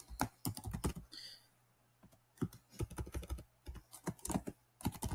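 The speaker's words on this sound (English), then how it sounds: "instead of board config, you're just going to type in upload" Keystrokes on a computer keyboard entering an upload command to flash an ELRS receiver for a Pixhawk, arriving in quick irregular bursts with a short pause in the middle, close and clear with no voices.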